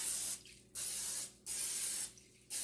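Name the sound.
cooking spray sprayed on the sides of a baking pan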